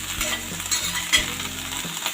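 Cauliflower and potato sabzi sizzles in a pan while a utensil stirs and scrapes through it, giving crackling frying noise and repeated clunks and scrapes at close range, with no voices.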